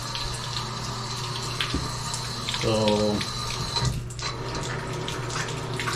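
Water runs steadily from a shower spout whose diverter fails to send flow up to the showerhead. A constant hiss carries a brief tonal gurgle from the plumbing, a voice speaks briefly, and the level stays low and even.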